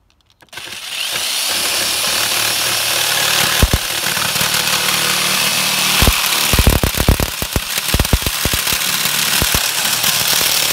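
A power saw runs slowly through a thin plastic face shield sheet for COVID face shield assembly, a steady whining drone lasting the whole stretch, with a cluster of sharp clicks and snaps near the end as the cut finishes.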